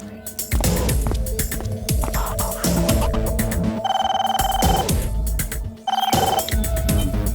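A telephone rings in an animated cartoon, with repeated electronic ring bursts over busy background music and effects, fairly loud.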